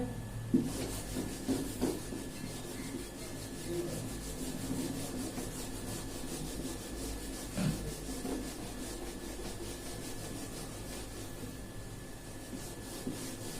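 A duster or eraser rubbed across a classroom board during a semiconductor lesson, giving a steady, continuous scrubbing sound with a few brief knocks, close by and without talk.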